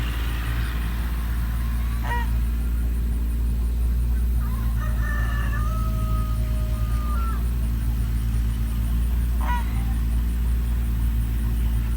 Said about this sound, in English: Some roosters in there crowing.